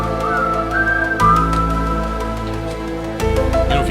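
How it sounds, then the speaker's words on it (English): A person whistles a short, wavering tune that slides between a few pitches, moderately loud over a steady background hum. "If you whistle, it sounds like it's 3D."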